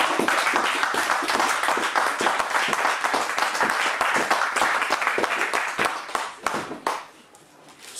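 A church congregation claps through a sermon, a loud, dense burst of applause that holds steady for several seconds and then thins out and fades near the end.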